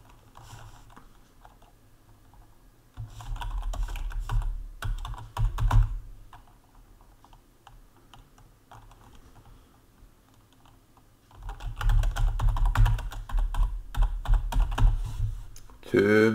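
Computer keyboard typing in two bursts of quick, uneven key clicks, close and moderately loud, separated by a quieter stretch of low background.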